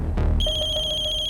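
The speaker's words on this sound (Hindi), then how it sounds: "नल्ले का नाम लिया और उसका फोन भी हाजिर है।" Mobile phone ringtone starts abruptly after a brief burst of noise, a steady repeating electronic tone pulsing at an even rhythm, loud and close in an indoor setting.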